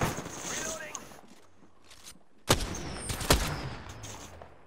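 Gunfire in the video game Apex Legends, with scattered clicks and scrapes, then two sharp, loud shots close together near the end over a low in-game hum, with voices speaking between them.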